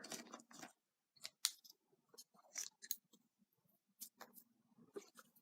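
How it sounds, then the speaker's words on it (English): Scissors snip through seam binding and eyelash trim in a quiet room, giving a series of short, close, crisp cuts in irregular bursts with pauses between them. "I'm just going to take a little piece of both."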